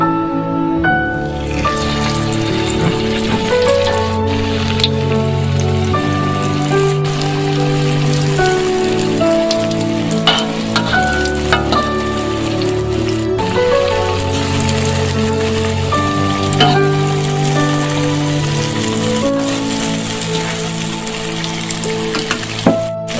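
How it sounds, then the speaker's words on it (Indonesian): Tofu egg rolls coated in flour fry in hot oil, giving a steady, close sizzle and crackle that runs the whole time beneath background music. "Ini ya guys, kita goreng."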